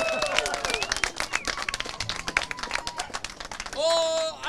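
Spectators at an outdoor pirate stunt show in La Rochelle applaud, a lively patter of many hands clapping with scattered shouts, ending as a voice speaks over it.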